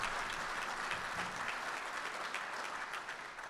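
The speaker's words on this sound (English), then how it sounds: "So please, a round of applause for all of them." A banquet crowd at the 2021 Marine Corps Association logistics awards dinner applauds industry representatives and corporate sponsors, a dense, even wash of many hands clapping that stays level and fairly soft throughout.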